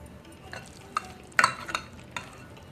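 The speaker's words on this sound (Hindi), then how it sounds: "हम चमचे से इस तरह से दबाएंगे कि इसमें एयर न जाए" A spoon presses and scrapes dry raw mango pickle down into a jar, giving scattered close clinks and gritty scraping scuffs, with one louder knock in the middle, and no voices.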